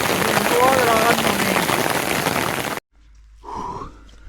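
Heavy rain from a big thunderstorm pours down during a mountain hike on the Vercors high plateaus, a loud, steady, close hiss for nearly three seconds before cutting abruptly to near quiet with a short voice-like sound.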